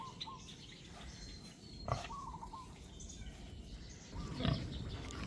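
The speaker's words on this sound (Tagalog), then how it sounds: "Free range lang po ito yung baboy natin." A free-range pregnant sow grunts twice, briefly and at moderate distance, over steady farmyard background noise with faint bird chirps.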